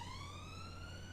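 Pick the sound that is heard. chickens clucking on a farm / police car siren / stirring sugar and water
police car siren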